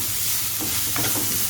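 Chopped vegetables with carrot, the stuffing for bread rolls, sauté in a pan with a loud, close, continuous sizzle and a couple of quick stirring scrapes.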